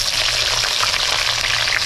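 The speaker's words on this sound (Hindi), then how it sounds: "इसको अब हम तेल में डाल देंगे।" Chopped onion and red chillies hit hot oil in a pan, giving a loud, dense, steady sizzle of frying close up with no voices.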